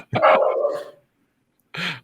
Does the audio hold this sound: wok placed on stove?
no